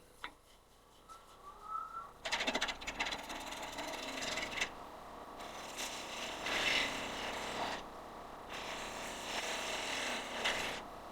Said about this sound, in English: It really eats up this end grain now, coming into the side like this.